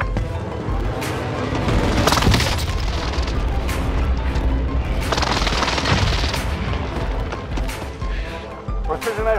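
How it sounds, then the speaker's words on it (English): Heavy rolling booms and crashing blasts from precision airstrike explosions in a video game shooter, dense and continuous with rattling gunfire mixed in, loud throughout. "Precision airstrike near."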